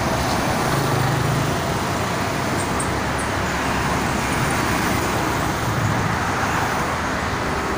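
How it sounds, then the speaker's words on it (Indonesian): Steady roar of traffic on the Jakarta-Cikampek toll road, with buses and cars passing in a continuous loud wash and no talking. "Ada bus kembar."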